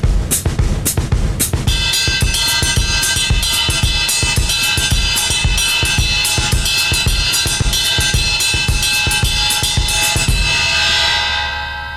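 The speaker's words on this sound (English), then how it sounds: "let's come over here to the bell of the right cymbal and play a pattern like this." Drum kit with a repeating samba-style pattern struck on the bell of a ride cymbal, bright ringing pings in steady fast rhythm over sustained cymbal wash and low drum hits, loud and close throughout.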